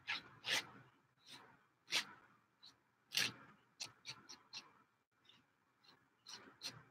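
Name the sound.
scratchy noise of painting on gesso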